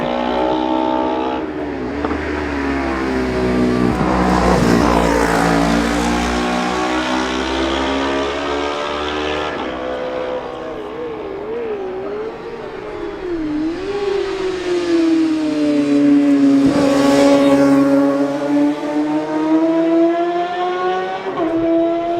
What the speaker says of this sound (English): The sound of Benjamin's bike recedes into the distance as he negotiates Milky's corner